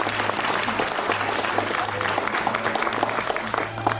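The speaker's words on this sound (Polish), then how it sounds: "gorące brawa drodzy Państwo" A crowd at a local awards ceremony gives warm, steady applause for the first award recipient, continuous clapping throughout with a faint hum beneath.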